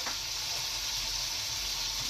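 Carrots hit a small hot pot and sizzle in a continuous bright hiss. The sound is close and steady, with no voices heard.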